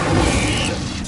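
The Incendio fire spell is cast in Hogwarts Legacy, a loud dense burst of whooshing flame and rumbling impact that fills about a second and then trails off slightly.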